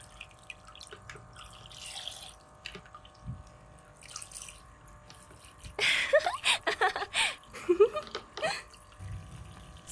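Water splashes and trickles close by in a toy doctor playset scene, faint drips early on giving way to a louder burst of running, splashing water in the second half, with a few quiet background noises.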